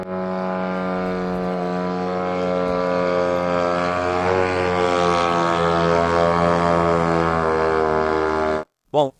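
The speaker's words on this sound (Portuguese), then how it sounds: "Essa é parte dos drones." Attack drones flying over Moscow give off a loud, continuous droning buzz with a strong steady engine tone that slowly shifts in pitch and holds for several seconds before cutting off abruptly, then a brief final burst.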